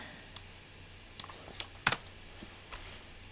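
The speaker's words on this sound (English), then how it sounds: "It can be tough when we're talking and I'm typing at the same time." Computer keyboard typing comes as a few sparse, sharp key clicks, close and fairly quiet, with one quick double tap in the middle and no voices.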